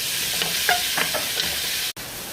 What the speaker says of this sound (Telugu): ఆయిల్ వేడెక్కిన తర్వాత ఉల్లిపాయలు వేసుకుందామండి.